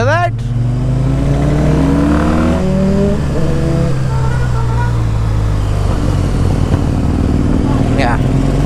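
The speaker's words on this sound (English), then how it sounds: "that's the backfire I'm talking about" Triumph Bonneville T100 motorcycle revved hard and released, its engine loud and close with rising and falling revs and faint crackle on the overrun, while someone talks over it.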